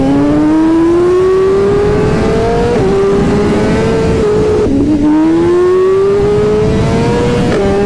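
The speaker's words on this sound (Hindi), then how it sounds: "छोटा सा बर्नआउट" A motorcycle doing a short burnout holds a loud, high-revving engine note that climbs steadily in pitch, drops briefly, then surges and climbs again, with a gritty rushing noise underneath.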